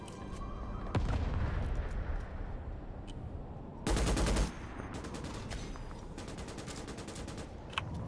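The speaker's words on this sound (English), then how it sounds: "the twin machine gun emplacement" A twin machine gun emplacement in Starship Troopers fires in sharp bursts: a single heavy shot, then a loud rapid burst, followed by lighter repeated gunfire and distant battle noise, no talking.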